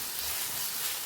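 Thinly sliced salted onions fry on high heat in a pan, giving a steady, even hiss of sizzling oil, moderately loud and uninterrupted for a brief moment.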